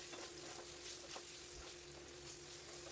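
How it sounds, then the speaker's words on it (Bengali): Masala spice paste frying in oil for chicken curry, a faint continuous sizzle with occasional soft stirring scrapes and small pops, heard close up with no voices. "যতক্ষণ এই মশলাটা সুন্দরভাবে ভেজে নেব, যতক্ষণ এই মশলাটা থেকে তেল না বেরোবে ততক্ষণ আমি ভালোভাবে ভেজে নেব"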